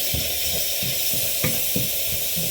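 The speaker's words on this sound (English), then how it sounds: "I'm just putting a little smidgen of stock just to help that cook out." Stock splashed into chilli con carne frying in a pan, a steady close sizzle with a few soft stirring scrapes and brief hissing bursts as the liquid hits the hot mince.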